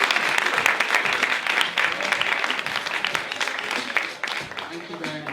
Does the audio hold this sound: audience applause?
yes